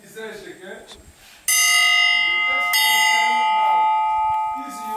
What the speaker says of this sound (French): Ces morceaux de fer servent de cloche pour réglementer la fin et le début des heures de cours.